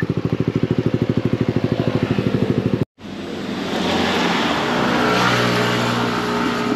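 An RFI motorcycle said to lack power bangs against its rev limiter in a fast, even stutter of pulses, then cuts out for an instant before a loud, sustained rev picks up again close to the microphone.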